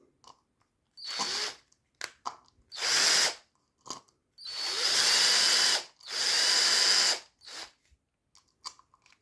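A power drill backs screws out of a plasterboard electrical box in a house, working in several short whirring bursts with quiet gaps between them, close and loud, and no one speaking.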